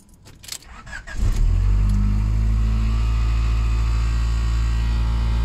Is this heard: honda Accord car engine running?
yes